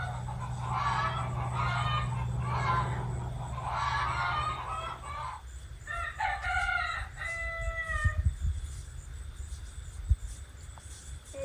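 Chickens squawk and crow loudly in a noisy burst for several seconds, then a few scattered clucks and calls follow over a low rumble.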